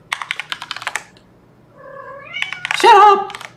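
A house cat meows loudly and close by, one drawn-out rising cry followed by a second harsher meow, with rapid computer keyboard typing clicking just before it.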